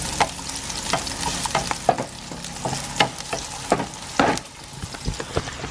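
Spicy radish frying in a pan with garlic, onion and chili flakes, a steady close sizzle broken by repeated stirring scrapes and clicks.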